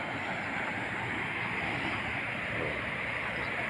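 Water from dam gates one, two and three, opened together, rushes through in a steady, loud, unbroken roar heard close by from the upstream side, with no voices.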